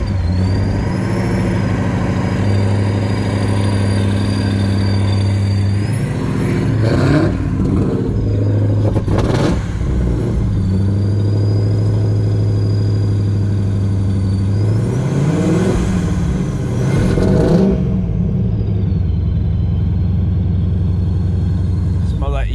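Cold car engine idling low and steady, then revving in several rising bursts, with people talking nearby over the motor.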